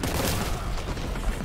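A grenade blast in the Warhammer 40k shooter Boltgun rolls out as a loud, dense rumble with crackling debris, continuous and close over the short stretch, with no voices.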